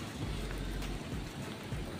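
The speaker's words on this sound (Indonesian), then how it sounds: "ini masih posisi gerimis ya" Light drizzle falls outdoors where sheep graze, a soft steady hiss of rain with a low rumble beneath, continuous and close with no talking.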